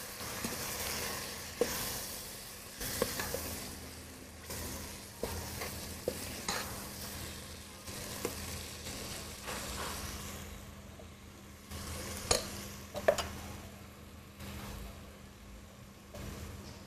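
Indian curry ingredients with whole spices are tossed and stirred in a hot pan, with a steady sizzle and frying hiss and occasional scraping clatters and knocks, close and without talking.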